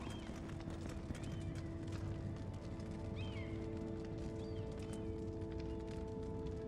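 Horses in a Telltale Game of Thrones video game walking with steady clip-clop hooves under a constant ambient drone, with a brief whinny partway through.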